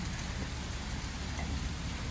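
Heavy rain pours steadily outdoors on a gloomy day at Table Rock State Park, South Carolina, a dense, continuous hiss of drops splashing on water and ground, close and unbroken for the whole stretch.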